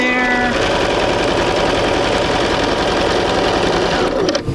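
Sewing machine running fast and steady along a straight seam joining quilt pieces for a basic sampler, a dense continuous whirring hum close by that slows and stops at the end.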